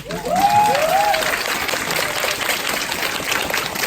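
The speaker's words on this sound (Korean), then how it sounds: "박수 한번 보내드리세요." An audience at a company group meeting breaks into applause, a dense, loud burst of clapping that carries on steadily for several seconds, with a couple of whistles or cheers early on.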